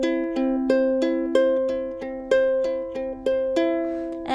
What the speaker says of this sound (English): plucking upwards. So it sounds like this using those fingers.